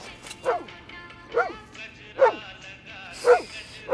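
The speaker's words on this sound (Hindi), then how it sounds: "अरे आज मोती भौंक रहा लगता" Dog named Moti barking in repeated sharp bursts, about five evenly spaced barks in four seconds, fairly close and moderately loud over a quiet background.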